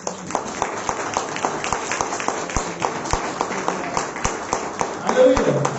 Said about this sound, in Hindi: सब प्रभु को महिमा की तालियां देंगे।